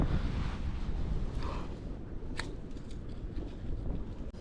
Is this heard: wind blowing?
yes